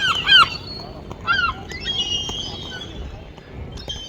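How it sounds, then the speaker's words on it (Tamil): Large birds, likened to eagles, calling loudly outdoors in cold Norwegian weather near Oslo, with several harsh honking cries in short bursts at a moderate distance. "இந்த பறவைங்க தான் பயங்கரமாக கத்துது."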